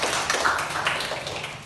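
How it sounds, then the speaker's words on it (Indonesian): Students in a classroom applaud, a quick, moderately loud patter of many hands clapping that fades slightly toward the end. "Baik, berikan tepuk tangan."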